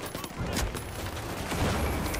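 Continuous dense gunfire from The Finals, a steady rattling barrage at moderate volume with overlapping shots and no clear pauses.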